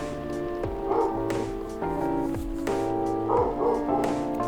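Indoor dogs bark and yip repeatedly in clustered bursts, loud and near, with higher whiny yelps mixed among deeper bow-wows.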